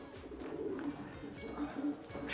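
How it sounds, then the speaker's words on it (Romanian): Racing pigeons coo in a soft, continuous low murmur throughout, several birds overlapping at close range with faint background noise. "Sunt niște porumbei speciali."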